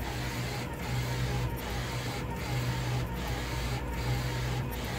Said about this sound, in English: We are printing our last sample.